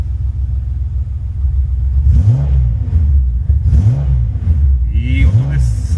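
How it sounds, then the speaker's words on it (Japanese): A Nissan S30Z running a swapped-in L28 engine that is still being broken in idles with a low rumble and is revved in three quick blips, loud and close, with someone talking over it. "ニッパチエンジンに乗せ替えて、今ちょうど新しいエンジンにして700キロです。"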